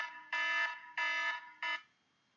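An electronic timer alarm beeps in three loud, steady tones, two long and one short, evenly spaced and clear against a quiet background with no talking.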